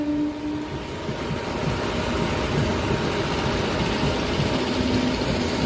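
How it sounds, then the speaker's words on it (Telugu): A train rolls steadily past the platform at Bhimavaram Town railway station without stopping, a continuous rumble of wheels and wagons holding at an even level throughout with a faint tonal hum. "భీమవరం టౌన్ రైల్వే స్టేషన్లో ఆగకుండా వెళ్ళే రైళ్ళని నేను చూడటానికి వచ్చాను"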